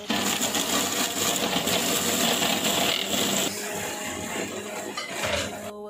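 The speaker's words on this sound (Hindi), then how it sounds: "तो अब हम ग्राइंडर में चिकन डालेंगे।" An electric grinder chopping chicken and onion coarsely, a loud continuous whirring motor with rattling contents that eases in tone partway through and then cuts off.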